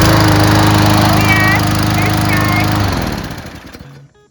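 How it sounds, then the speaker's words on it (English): A gas push lawn mower engine runs with a loud, close, steady drone, then quickly winds down and falls silent. "He put some gas in it and he's gonna start it up."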